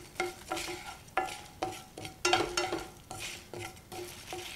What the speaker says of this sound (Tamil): இப்போ இதெல்லாம் வறுக்கணும், நல்ல மணம் வர வரை வறுக்கணும்.